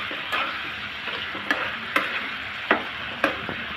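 Eggs are stirred into softened onion and tomato in a frying pan, a soft steady sizzle with a few spaced spatula taps and scrapes.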